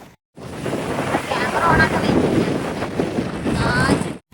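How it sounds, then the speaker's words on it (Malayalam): Strong wind roars across the microphone in a continuous, gusting rush, loud and close, with no other sounds standing out. "എത്രത്തോളം കാറ്റുണ്ടെന്ന് മനസ്സിലായോ? ആ സൗണ്ടാണ് ഇപ്പൊ നിങ്ങൾ കേട്ടത്."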